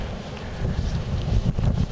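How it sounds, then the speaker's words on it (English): Gusty blizzard wind buffets the microphone outdoors, a loud low roar that swells and surges in uneven bursts throughout. "A little windy."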